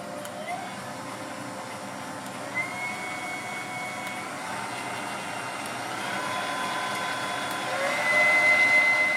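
A Haier HM 700 kitchen machine runs its motor while kneading dumpling dough, giving a steady, fairly quiet whirring hum with faint whining tones that swells slightly toward the end.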